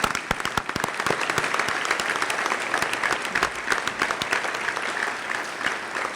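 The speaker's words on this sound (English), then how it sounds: "let's give a huge round of applause to all of our award winners" Audience at a public safety awards ceremony claps steadily for the award winners, a dense, sustained round of applause from a room of people with scattered louder individual claps throughout.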